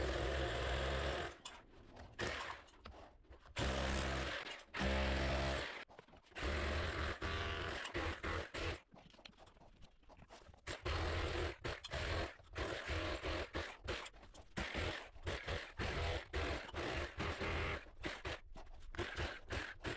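Hacking out a wall opening for a ventilation fan: loud, close, irregular bursts of chipping and scraping that stop and start in rough clusters, with brief pauses between them and no talk.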